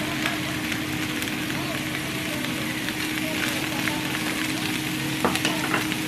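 Meatballs frying and being stirred in a pan, a steady close sizzle with scraping stir sounds throughout and a few brief clinks near the end.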